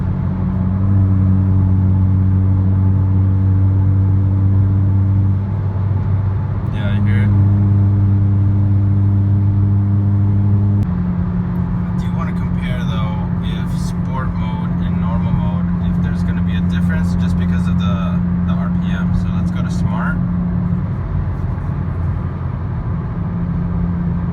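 A 2020 Hyundai Veloster 2.0 with a muffler delete drones inside the cab, with steady low engine tones that shift pitch as it accelerates and decelerates, plus road noise and talking over it.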